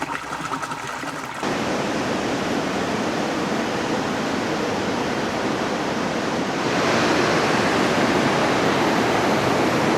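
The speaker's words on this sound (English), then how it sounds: "The river goes down in a hole here." River water rushing and plunging down into a hole in the woods, a loud, steady broadband roar that swells slightly louder toward the end, with no voices.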